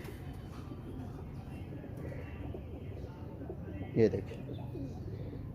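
A Sheikh-breed pigeon in a Lahore pigeon loft makes a low, soft cooing against a steady background murmur, with one brief louder call near the end and a voice speaking nearby.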